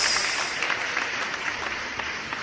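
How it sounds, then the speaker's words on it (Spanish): A church congregation applauding during a sermon, continuous bright clapping that stays loud and even throughout, with no speech over it. "Aplaude al Dios que vive."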